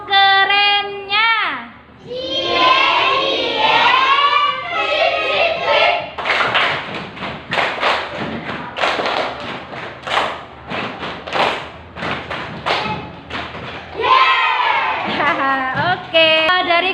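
A primary school class performs the rhythmic 'tepuk keren' clapping chant, with a burst of loud, patterned group claps and thumps mixed with children's voices, after a teacher speaks briefly at the start and before more talk at the end.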